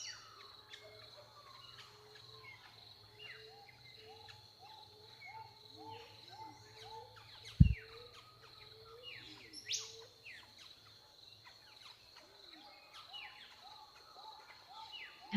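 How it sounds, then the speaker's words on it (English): Bird song in a quiet breathwork session, repeated melodic chirps over a steady insect-like drone, with one sharp knock partway through and no voices. "this final bird song does let us know that it's time to come back into the room"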